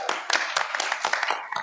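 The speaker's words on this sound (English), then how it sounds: "Give a round of applause." Small group at a board meeting clapping to welcome a newly promoted colleague, sparse distinct hand claps in an uneven rhythm, fairly close and moderately loud.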